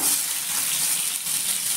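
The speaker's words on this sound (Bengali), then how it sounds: "আলুগুলো এবার ভেজে নেব" Diced potatoes rubbed with salt and turmeric frying in hot oil in a pan, a steady, loud close-up sizzle that holds evenly throughout without any talking.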